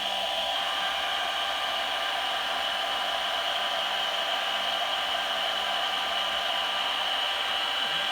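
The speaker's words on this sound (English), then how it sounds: "I'm going to turn the blow dryer on," A blow dryer runs steadily to dry sheets of copy paper coated with Mod Podge on plastic wrap, giving a constant, even whooshing hiss from start to finish with no talking.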